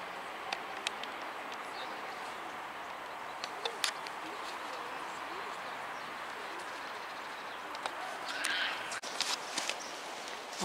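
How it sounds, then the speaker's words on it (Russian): Faint bird chirps in a small sunny forest on a cold, windy day, a few brief high calls, most of them toward the end, over a soft, steady wash of wind and rustling. "Может, тут услышите птичек?"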